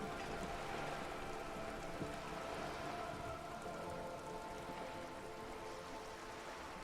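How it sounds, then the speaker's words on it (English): Steady rain falls on wooden boards and open water in Disco Elysium, a continuous dense patter with fine drops, moderately loud and even throughout with no voices. "All around you, rain keeps falling down. On the wooden boards she's standing on, and on the water around you."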